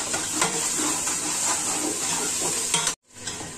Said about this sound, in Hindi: ये हमारा मसाला भून गया अच्छी तरीके से।